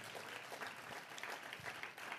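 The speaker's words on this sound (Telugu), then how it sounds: "చప్పట్లు కొడుతూ స్తోత్రాలు చెప్దాం" Faint, distant applause at a Christmas sermon, a soft patter of many hands clapping together for a couple of seconds.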